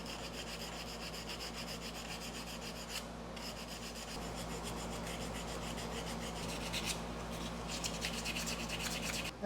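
A classic car steering wheel is sanded by hand with 220 grit paper, a continuous fine scratchy rubbing that stays close and fairly quiet with a steady back-and-forth texture.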